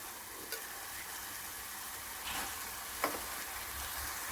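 Field beans (val) tipped into spiced coconut masala in a hot pan, giving a steady soft sizzle with a few brief scraping stir sounds and small clinks, close and moderately quiet.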